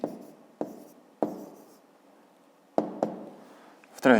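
Numbers are handwritten with a pen for a fifth-grade maths exercise: six or so short, close scratching strokes, each sharp at the start and fading fast, with irregular pauses in a quiet room.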